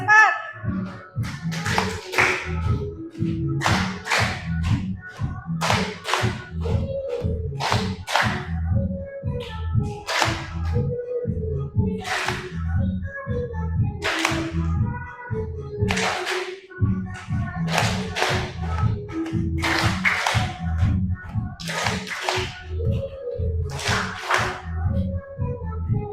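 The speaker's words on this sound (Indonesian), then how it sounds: "Sekali lagi, tepuk semangat." A junior high class does the 'tepuk semangat' rhythmic clapping ice breaker: loud, steady patterned hand claps repeat throughout, with children's voices chanting and calling along.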